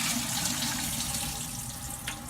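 Water pouring through a colander to drain squash seeds, a steady close splashing rush that continues throughout without speech.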